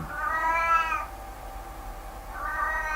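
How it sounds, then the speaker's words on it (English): A cat meows indoors, two drawn-out, fairly loud calls separated by a pause, heard close to the microphone over a low background hum. "Excuse the cat again there, making himself known again."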